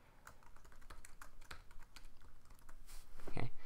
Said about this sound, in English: so you can type in the title of your event